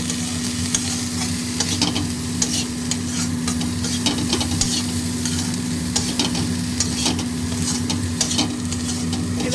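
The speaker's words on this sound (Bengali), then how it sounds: "এবারে এগুলো একসাথে ভালো করে সতে করে দিতে হবে।" Maggi masala being sautéed in a pan, a steady sizzle of frying with frequent scraping and stirring strokes throughout, close and fairly loud, no voices.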